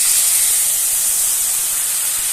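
Water splashed into a hot pan of potato and paneer with bay leaf, dried chilli and whole cumin, giving a steady, loud hissing sizzle that holds evenly throughout, with no talk.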